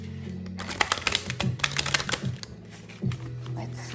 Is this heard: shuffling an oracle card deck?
yes